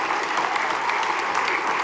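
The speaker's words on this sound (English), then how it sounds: "let's hear a huge round of applause for all of our vocalists tonight" A middle school winter concert audience applauds its choir and vocal ensemble singers, a dense, even wash of many hands clapping from a large room, steady and moderately loud with no speech.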